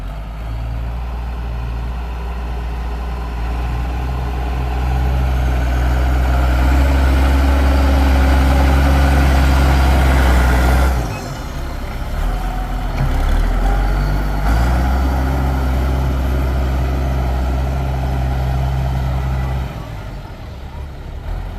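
A heavy diesel engine of a TS115 tractor pushing soil runs steadily and loudly with a deep rumble, its load dipping briefly midway before resuming its strained drone.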